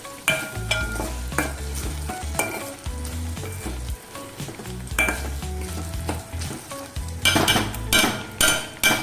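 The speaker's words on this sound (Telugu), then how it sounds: "అల్లం వెల్లుల్లి పేస్ట్ని 1 స్పూన్ వేసుకొని పచ్చి వాసన పోయే వరకు ఫ్రై చేసుకోవాలి" Ginger garlic paste fries with onions in a pan, a steady close sizzle broken by repeated scrapes and clinks of a spoon stirring against the metal.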